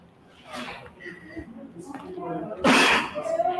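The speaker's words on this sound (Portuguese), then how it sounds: "Vocês que tossiram." Several people coughing and clearing their throats in a classroom during a pharmacy pharmacology lecture, scattered throat sounds building to a loud burst near the end, with background murmuring voices.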